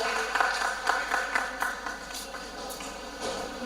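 An audience at a student symposium applauds a student presenter, a soft, moderately distant patter of clapping that fades slightly over a few seconds.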